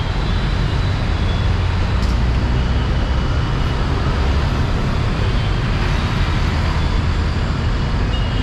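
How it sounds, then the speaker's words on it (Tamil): City bus interior near Ambal Nagar bus stop on a Kilambakkam to Koyambedu route in Chennai, with a constant loud engine rumble and road noise while the bus idles at the stop. "இப்போ பஸ் நிற்கிறதாங்க அம்பாள் நகர் பஸ் ஸ்டாப்."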